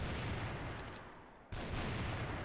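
Dense gunfire from a CrossFire match, loud and sustained bursts that drop away briefly around the middle before another heavy volley resumes.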